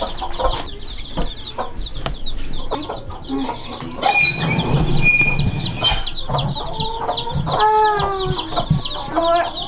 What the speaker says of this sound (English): More chicks.